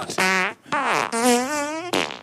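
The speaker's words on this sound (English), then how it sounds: "Is this the same fart?" A long, loud, close fart stretches out in several drawn-out tonal bursts with brief breaks, ending in a final short blast.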